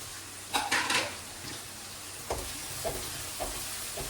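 Green chillies and onions sauté in hot oil, giving a steady soft sizzle broken by a few sharp clinks and scrapes of a utensil against the pan.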